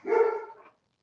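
A single bark from a house dog, close and fairly loud, lasting just over half a second, followed by silence.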